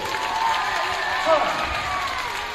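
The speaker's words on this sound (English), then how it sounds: "Big round of applause for them, please." A school assembly audience of students claps, cheers and shouts for a short stretch at a steady level, with voices mixed into the noise.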